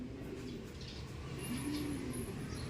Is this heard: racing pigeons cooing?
yes